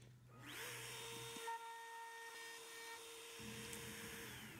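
A CNC router spins up and carves wood, a steady high-pitched motor whine that starts near the beginning and holds at a constant pitch, fairly loud and alone, with slight shifts as the cutter engages the workpiece.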